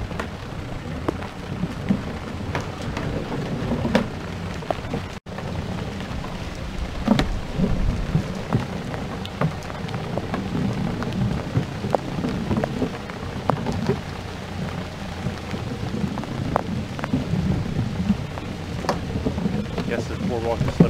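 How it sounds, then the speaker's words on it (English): Heavy rain patters steadily in a swamp along a boardwalk, with rumbles of thunder rolling through at intervals, continuous and fairly loud throughout. "Starting to rain."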